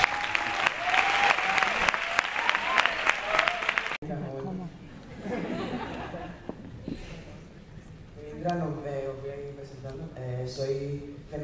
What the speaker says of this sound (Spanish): Un fuerte aplauso para nuestro artista.